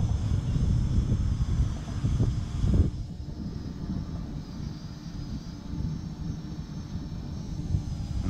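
A Parrot Anafi drone flying in boomerang flight mode, a steady broadband motor and propeller whir that holds evenly throughout, with a slight drop in intensity partway, no speech.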